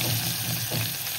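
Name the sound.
onion sizzling as it is added to hot oil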